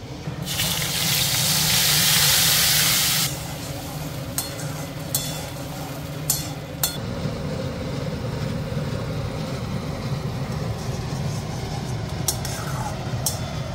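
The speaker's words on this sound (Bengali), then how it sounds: "আর এবার আমি এর মধ্যে মশলাপাতি দিয়ে ধীরে ধীরে এটাকে কষানো শুরু করবো।" Spices fry in hot oil in a pan for egg curry, giving a loud, hissing sizzle for a few seconds that then settles into a softer, steady crackle, with occasional clinks and no speech.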